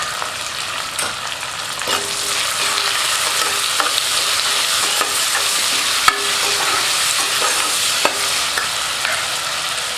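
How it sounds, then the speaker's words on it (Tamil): Sliced onions fry in a pan with salt for a mushroom coconut milk biryani, a steady broadband sizzle running throughout with occasional scraping stir clicks, close and fairly loud, no talking. "இப்போ இந்த வெங்காயம் நல்லா ஃப்ரை ஆகிடுச்சு பாருங்கள்"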